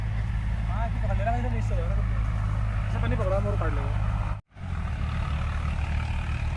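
A tractor engine drones loudly and steadily nearby on a roadside, an unbroken low rumble underneath someone talking, briefly dropping out for a moment before resuming.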